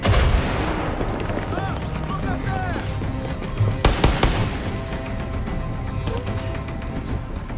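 Grenade blast in the Far Cry 6 video game, a burst of impact around the middle amid continuous gunfire, crashes and game noise, with speech over the action.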